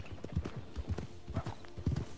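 Horse hooves clip-clop in a quick, uneven rhythm of close, hollow thuds over a couple of seconds, with no talking.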